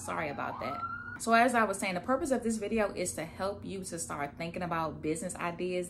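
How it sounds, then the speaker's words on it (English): Emergency vehicle sirens wail faintly in the background beneath a person speaking steadily throughout. "Excuse the sirens in my background."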